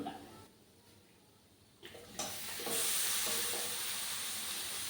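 Chicken masala sizzles in a hot pan while a ladle stirs it, a soft hiss that swells and grows brighter partway through, fairly quiet and close.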